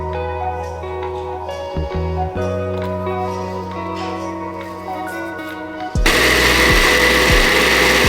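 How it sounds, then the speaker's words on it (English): A blender blending walnuts and dates in place of a weak food processor, running as a steady loud whir with a few brief pitch dips, then surging into a harsher, louder roar near the end. "my food processor sucks, so I'm blending it"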